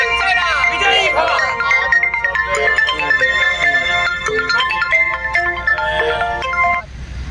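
A mobile phone plays a melodic, tuneful ringtone loudly and close by for several seconds before it cuts off, at an outdoor gathering in a park with people talking around it.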